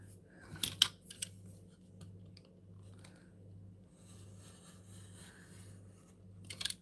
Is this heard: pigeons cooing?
no